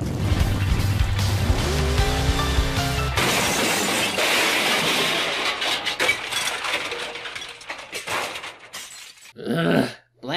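Car crashing in Final Fantasy XV, engine roar and skidding followed by a run of crunching, shattering impacts, with sharp bangs and breaking debris growing choppier toward the end before a final loud hit.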